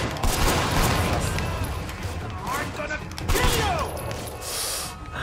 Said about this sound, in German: Die schießen einfach.